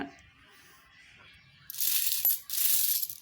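Old Indian coins in good condition, sold as a mixed lot, jingle and clink as they are handled, in two loud bursts of metallic rattling after a quiet start.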